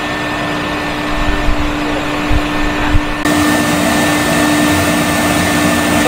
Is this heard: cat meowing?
no